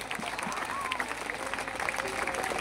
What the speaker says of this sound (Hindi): अब इंद्राज सर का जवाब आपकी तालियों में तब्दील हो जाए